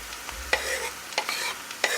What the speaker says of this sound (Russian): Добавляю в сковородку морковь и яблоко. Обжариваю примерно 2-3 минуты.